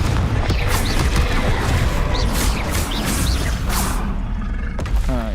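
Confringo fire spell blasts in the video game Hogwarts Legacy, a loud continuous rumble of booms and whooshing bursts with crash-like impacts.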